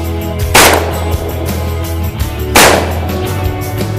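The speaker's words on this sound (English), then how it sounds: "it's time to do some shooting" Gunshots in a hunting video game: two sharp, loud shots about two seconds apart, each with a short decaying tail over a steady low background hum.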